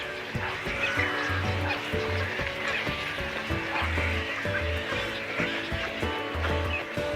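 A colony of pelicans calls near water, with repeated low, honking grunts overlapping in an irregular rhythm against a steady outdoor background, moderately close and without speech.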